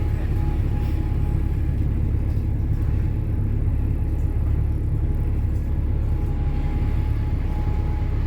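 An LF52 ZRX Gemini 1 bus engine rumbles steadily and loudly from inside during a ride, with a constant deep drone and no pauses.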